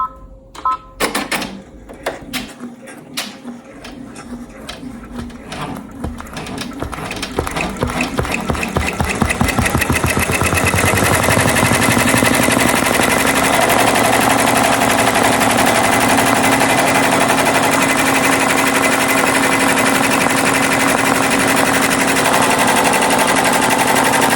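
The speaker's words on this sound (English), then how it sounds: "And now I'm gonna let it sew out again." An embroidery machine stitching a cocktail napkin held in the hoop: a few sparse clicks and taps, then a rapid mechanical chatter that speeds up and settles into a loud, continuous, even rattle for most of the stretch.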